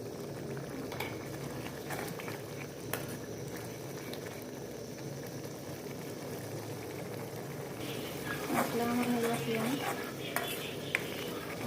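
Tomato and masala being stirred into an Odia-style fish curry in a pan, giving a steady bubbling, sizzling cooking noise with faint stirring scrapes throughout.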